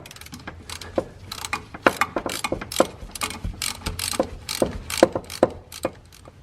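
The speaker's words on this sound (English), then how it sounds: "So I'm working on the back bolts of the drive shaft, and I have an extension on my ratchet here" Socket ratchet with an extension clicks in quick repeated bursts while breaking loose the rear driveshaft bolts under a Corvette during a manual transmission swap; close, crisp pawl ticks with no talking.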